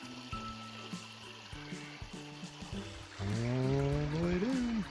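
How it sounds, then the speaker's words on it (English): Steady rushing water from a desert waterfall on the Arizona Trail pours in the background while a voice hums and speaks over it, growing louder toward the end. "Yeah, that's a waterfall."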